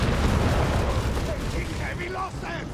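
Artillery and flak fire in Company of Heroes 3 rumble as a dense, continuous barrage of distant booms and bursts, with faint whistling tones rising near the end.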